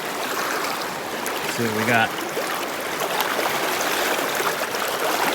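A stick-strewn stream rushes steadily along its bed in continuous close burbling during a tenkara fishing trip, with someone briefly speaking over the water.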